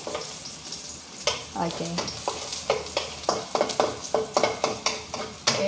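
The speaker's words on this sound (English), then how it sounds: "And then getting brown the garlic." Garlic sizzles in a hot pan while being stirred, a steady frying hiss broken by scraping clinks of a utensil against the pan during home cooking in the Philippines; a voice speaks briefly.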